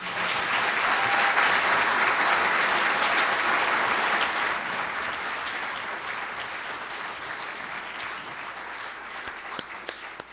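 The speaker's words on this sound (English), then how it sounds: "one of them is right now to give a hand to all of these candidates for coming" Sustained applause from the audience at a 2018 candidates forum in Westbrook, loud and dense at first, then gradually thinning and fading to a few scattered claps near the end.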